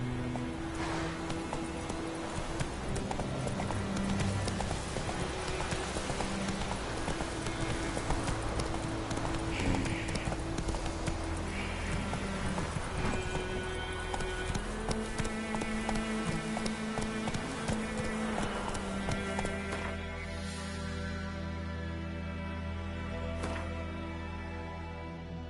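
Roach the horse's hooves clip-clop steadily on the ground throughout a video game scene, a continuous rhythmic trotting gait heard over a layer of music and ambient game sound, with no speech.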